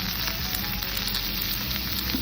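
Cauliflower pieces fry in a pan with curry leaves, giving a loud, continuous close-up sizzle with crackling oil that holds steady throughout.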